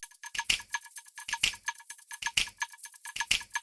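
Slap house intro built from looped electronic percussion: crisp, ringing clock-like ticks with bright accents landing about once a second in a steady, tight groove, loud and alone.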